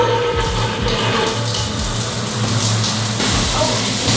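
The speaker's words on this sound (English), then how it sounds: "I'm gonna turn the water back on." Water gushing steadily from a bathroom supply line just turned back on after a DIY bathroom remodel, a loud continuous rush and splash with no talking.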